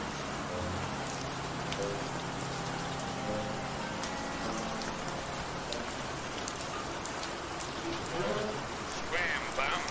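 Steady rain falls as a dense, even hiss that continues unbroken throughout, with faint music and thunderstorm ambience underneath.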